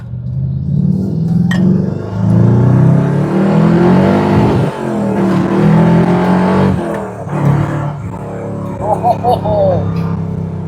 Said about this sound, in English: When I'm gently on the throttle I can hear a whine. It would not surprise me if it was the rear diff.